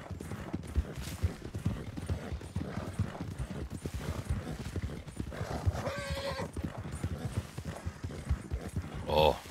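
A horse in Red Dead Redemption 2 trots with clip-clopping hooves and gives a whinny near the end, under someone talking in German over faint background sounds.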